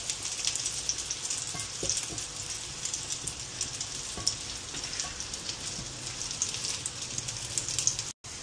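Eggplant omelette (tortang talong) made with small stunted eggplants frying in a pan, a steady close sizzle and crackle with scattered pops throughout, no talking.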